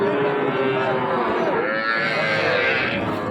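Cattle at a busy cattle market, with a nearby cow lowing in a long, drawn-out moo over a constant crowd murmur, chatter and background noise.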